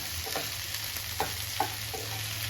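Sliced okra fries in a pan while a spatula stirs it, a steady sizzle broken by a few distinct scraping strokes at a moderate, close level.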